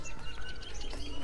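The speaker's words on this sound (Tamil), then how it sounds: "இவ்வளோ புறா உட்காந்துருக்கு பாருங்கள்." Pigeons at their nests on a tiled roof, soft cooing and chirping calls close by over a dense, noisy outdoor background.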